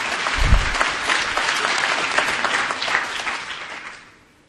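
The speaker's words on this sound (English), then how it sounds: "I heard some applause there." A crowd at a panel discussion applauds with dense, continuous clapping. A brief low thump sounds near the start, then the applause tapers off and fades out at the end.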